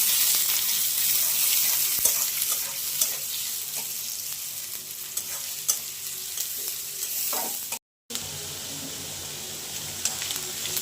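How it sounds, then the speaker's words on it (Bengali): Chopped onions fry in oil in a wok with a steady close sizzle, punctuated by occasional clicks and scrapes of stirring, and a short gap near the end. "কড়াইতে তেল দিয়ে দিয়েছি এখন পেঁয়াজ কুচিগুলো দিয়ে দেবো"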